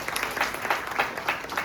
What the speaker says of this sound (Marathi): त्यांच्यासाठी एकदा जोरदार टाळ्या होऊ द्या.